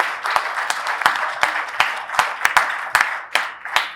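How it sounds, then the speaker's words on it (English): An audience applauds for the police chief and fire chief at a 2022 State of La Grange community address, giving a steady, fairly loud wash of clapping with sharper individual claps standing out throughout. "If we could give them a round of applause."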